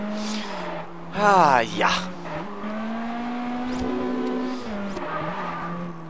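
Aston Martin engine in the racing game Test Drive Unlimited, a steady held drone with a brief sharp squeal-like rise near the start, running under casual talk throughout.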